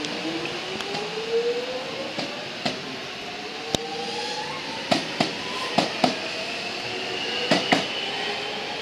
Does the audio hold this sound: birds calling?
no